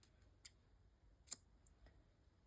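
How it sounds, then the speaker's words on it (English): Scissors snip through yarn during a crochet project, two crisp, quiet clicks about a second apart with a fainter third snip, alone against a soft low background. "get your scissors"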